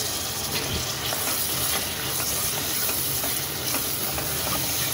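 Chopped tomatoes hit hot frying masala in a pan for egg biryani, setting off a loud, dense, steady sizzle and hiss that fills the whole few seconds, close up with no talking.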